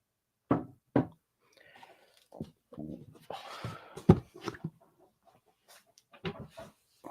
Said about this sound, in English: It sounds like somebody's chopping something.